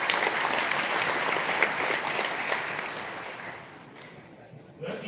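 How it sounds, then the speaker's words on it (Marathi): Audience applause at a Marathi literary gathering, a dense patter of clapping that fades toward the end and gives way to a brief noise. "आपल्या स्वतःसाठी एकदा जोरदार टाळ्या वाजवून द्या"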